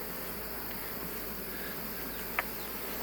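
Honey bees on a hive frame crowded with capped swarm cells, a steady close buzzing hum that fills the whole clip with no pauses, one brief soft tap near the end.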